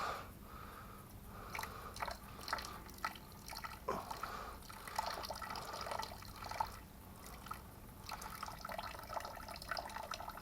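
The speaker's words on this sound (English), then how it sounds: "First, I like to dump out all the dirty water." Dirty water is poured slowly from a snuffer bottle into a gold pan while prospecting at a Southern California gold claim, giving a steady close trickle with scattered drips and splashes.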